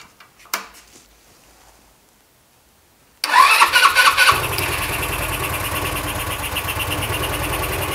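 An engine cranks and fires up with a burst of sputtering, then settles into a steady, loud idle; it follows a quiet stretch with a few small clicks, on a vehicle being tested for its fuel valve.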